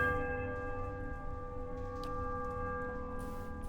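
In the Pillars of Eternity game, a struck bell's tone hangs in a long steady ringing decay, a faint whoosh passing over it near the end, with no voices.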